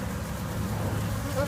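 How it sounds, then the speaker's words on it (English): A dense swarm of hundreds of honeybees buzzes close and steady around a hand held among them inside a box, a continuous droning hum with no pauses. "I got my hand in amongst hundreds of bees right now."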